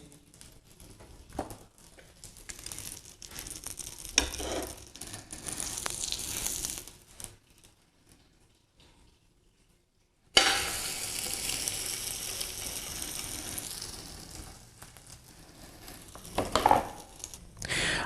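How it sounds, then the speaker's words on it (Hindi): An egg-wrapped pizza sandwich filled with cheese, onion and capsicum fries on a low flame, giving a steady soft sizzle with crackles. It drops almost silent midway, then returns louder and fuller after the sandwich is turned. "इसे हमने ऐसे ही दोनों साइडों से 3-3, 4-4 मिनट लो फ्लेम पे पका लेना है"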